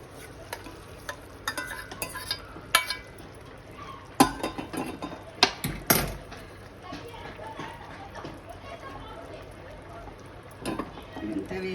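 A spoon stirs a halwa mixture of ash gourd with milk khoa in a pan, producing scattered scraping clicks and sharp knocks against the metal over a faint sizzle, with someone talking throughout.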